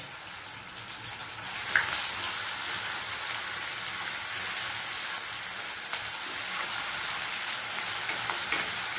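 A ground spice paste for chilli chicken sautés in a pan with a steady, dense frying crackle like light rain, punctuated by a few soft spoon taps, close and without talk.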